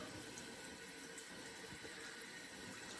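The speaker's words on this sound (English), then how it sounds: "with warm water, I'm going to go ahead and wash off the brush" Warm tap water runs steadily over a shaving brush, a constant close hiss of flowing water with faint splashing throughout, no voices.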